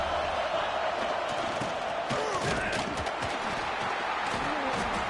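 Stadium crowd roaring in the College Football 26 video game during a red zone defensive stand, a steady dense wash of cheering and noise that holds throughout.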